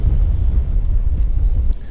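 Strong wind buffets the microphone beside a river during fishing, a loud, low, rumbling roar that fluctuates constantly and fills the clip without any voices.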